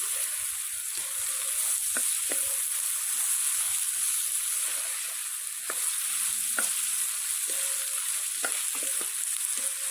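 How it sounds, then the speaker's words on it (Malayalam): Chicken stew with carrots being stirred in a pan, a continuous soft sizzle with intermittent clinks and scrapes of a spoon mixing the contents, heard close. "ഇനി ഇതെല്ലാം കൂടെ ഒന്ന് മിക്സ് ചെയ്ത് കൊടുക്കും."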